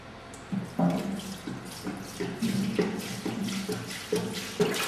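REM40 liquid pours from a metal canister into a car's tank, giving a steady gurgling splash with uneven glugs and surges, close and moderately loud, with no voices.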